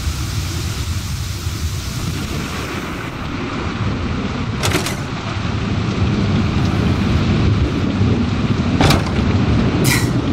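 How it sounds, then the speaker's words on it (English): Steady heavy rain pours throughout in the video game Tactics Ogre: Reborn, with sharp cracks of thunder breaking through at intervals, the downpour growing slightly louder toward the end. "Quite the downpour."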